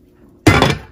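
A lid set down on a pan of flatbread dough: a single sharp metallic clank right after a stretch of near silence, then a brief ringing that fades out.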